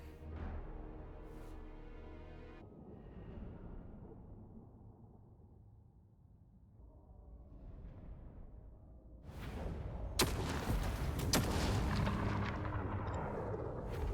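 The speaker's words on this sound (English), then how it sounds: "Man, that grape shot is really, really nasty." Grape shot artillery fire in Total War: Warhammer 3 with a Dwarf army: a low rumbling battle din that builds into a loud burst of booming cannon blasts and crackling impacts near the end.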